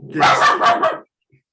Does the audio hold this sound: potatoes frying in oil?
no